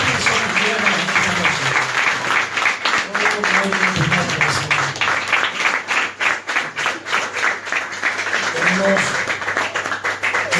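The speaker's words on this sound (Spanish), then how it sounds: "Vamos a dar un aplauso al Señor." Church congregation applauding, sustained crowd clapping throughout with a voice speaking over it and some tonal sounds in the background.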